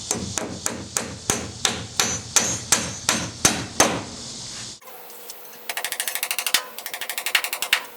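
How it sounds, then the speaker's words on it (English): Nails driven into straps on plywood sheathing of a tiny house build: about a dozen evenly spaced, ringing hammer blows close up, then a rapid rattling mechanical burst of repeated taps. "I get to nail on some straps."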